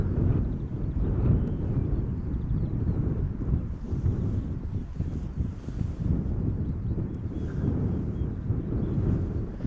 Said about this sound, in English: that is the Singapore Airlines cargo arriving from Sharjah